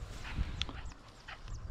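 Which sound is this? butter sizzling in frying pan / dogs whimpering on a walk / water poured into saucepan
dogs whimpering on a walk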